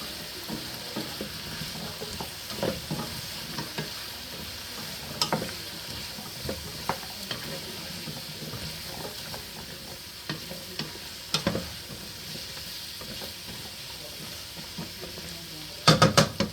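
Celery being stirred into a sizzling beef stew pot, a soft constant fry hiss under scraping spoon strokes, with a brief clatter of the pot near the end.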